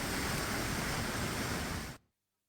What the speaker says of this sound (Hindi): देखिए नर्मदा का रौद्र रूप आप पीछे देख सकते हैं।